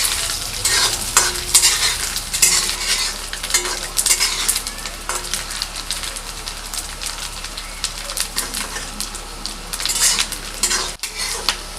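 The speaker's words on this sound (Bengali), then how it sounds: "নারকেলগুলো ভাজা হয়ে গেছে" Small pieces of coconut browning in oil in a pan, sizzling steadily while a spatula stirs and scrapes against the metal again and again, loud and close throughout.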